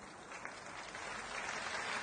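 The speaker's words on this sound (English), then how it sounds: "Can we have a huge round of applause for yourselves for making it to this evening?" An audience at an evening business event applauds, a dense, steady wash of many hands clapping that swells slightly louder toward the end, with no voices over it.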